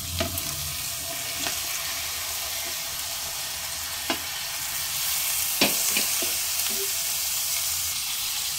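Chicken pieces, rinsed and drained, fry with crushed ginger in a pan over medium flame for a chicken stew, a steady close hiss and crackle with scattered spatula taps.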